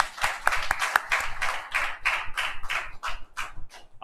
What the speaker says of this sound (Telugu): అందరము చప్పట్లు కొట్టి దేవుని నామమున మహిమపరచుదాం